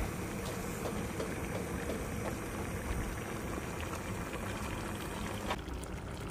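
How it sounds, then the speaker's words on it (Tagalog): Coconut milk with mixed vegetables bubbling in a cooking pot, a steady dense simmering hiss and crackle that runs unbroken at close range, with no voices. "kulong-kulo na naman yan"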